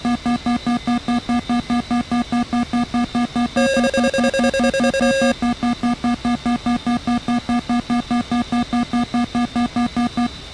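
A cockpit warning tone in the A-10A aircraft of the DCS World flight game beeps in a fast, steady, continuous pulse, loud and close, with a second higher tone briefly layered over it partway through.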